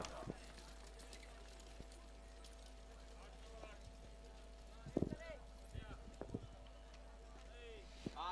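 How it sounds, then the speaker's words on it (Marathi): Hooves clip-clop at a bullock cart race at the old Hind Kesari ground in Malshiras, with four carts running amid faint, steady background noise and a few louder thuds near the middle. "सुंदर अशा चार गाड्या पळतायत"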